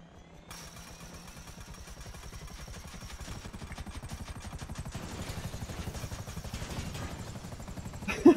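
A helicopter in the video game Grand Theft Auto V spins up from rest, its rotor chopping in a fast rhythmic pulse that grows steadily louder and quicker, close and alone, ending in a couple of sharp knocks.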